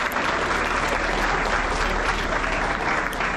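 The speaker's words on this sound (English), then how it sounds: "Let's give the queen another round of applause" An audience applauds at a celebration honoring a scholarship recipient, a dense, steady roar of many hands clapping, loud and continuous throughout, with no voices.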